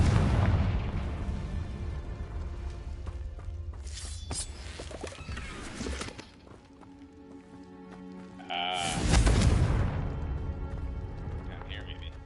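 Spell-cast explosions from the Confringo spell in Hogwarts Legacy burst with deep booms and crackling blasts, repeated several times, loud and close, with game effects ringing between them.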